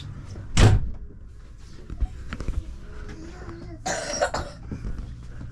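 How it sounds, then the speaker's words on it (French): A door is pushed shut with a single sharp thud near the start, followed by faint shuffling, a throat-clearing sound and a brief rattle. "On va fermer la porte."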